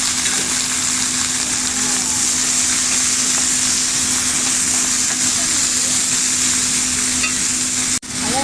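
Pumpkin pieces going into a pan for ginataang kalabasa, pumpkin in coconut milk, with a loud continuous sizzle and stirring held close throughout and a steady hum underneath, cut off briefly near the end.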